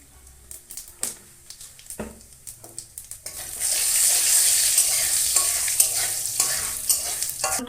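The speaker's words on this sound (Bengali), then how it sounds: "কড়া গরম হয়ে গেছে তেল দিয়ে দেবো রাঁধুনি অল্প দুটো জিরে দিয়ে দিলাম" Cumin seeds and radhuni fry in hot oil in a heated wok, a few scattered clicks at first, then a steady close sizzle swelling up and holding with faint stirring.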